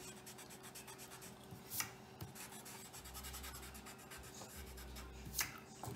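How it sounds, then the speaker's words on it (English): A pencil-top eraser rubs over paper to remove pencil lines, a soft close scratchy scrubbing in short repeated strokes against a steady low hum, with a couple of sharper taps. "go in, erase your pencil lines"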